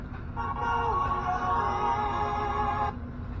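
A steady electronic tone sounds for nearly three seconds over a low background hum, then cuts off abruptly.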